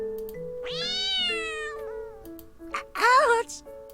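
A cat meows in the Love Esquire video game, with a long rising, wavering meow, then a shorter strained yowl, set over steady background game music.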